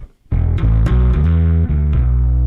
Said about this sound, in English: That to me sounds just like a nice preamp that's got some drive on it.